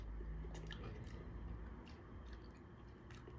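Crunchy pickled vegetables in vinegar being bitten and chewed up close, a series of soft wet crunches and squishy mastication sounds over a steady low background hum, with no talking.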